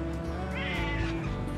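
A pet cat gives a single drawn-out meow, close by, over a steady low hum in a room at home.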